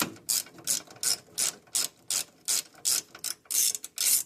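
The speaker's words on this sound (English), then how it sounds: "So we'll just take that screw out of the clamp" Ratchet clicking in about a dozen quick, evenly spaced bursts, loud and close, as it backs a screw out of a clamp on a hot rod, with no talk.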